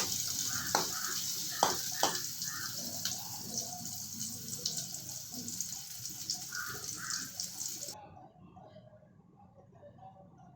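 Grated coconut, about a cup, being dry-roasted in a pan for a Kerala-style mackerel curry, giving a soft crackling sizzle with scraping stirs, a few sharper knocks early on, and a steady sizzle continuing to the end.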